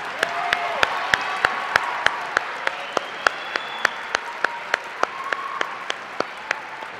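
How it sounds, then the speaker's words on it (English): Applause for a school commencement band at a citywide concert comes as sharp, evenly spaced claps repeating in a steady rhythm throughout, with faint murmur and tones behind them. "Round of applause to the commencement band."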